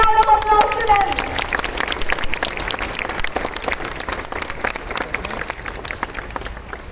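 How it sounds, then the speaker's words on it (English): A school assembly audience applauds steadily throughout, a dense mass of claps filling the hall. A voice speaks over it at the very start. "Put a big round of applause to them."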